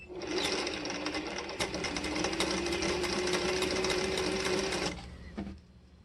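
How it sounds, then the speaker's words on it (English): Sewing machine stitching quilt patchwork pieces with a 1/4 inch seam, running steadily and close for about five seconds before stopping, leaving a quiet tail. "Sewing them all with that maroon corner going through first."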